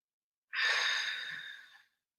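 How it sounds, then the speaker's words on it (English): A single deep, airy exhaled breath, close and soft, rising suddenly and tapering away over about a second and a half against silence. "you're breathing out the fear"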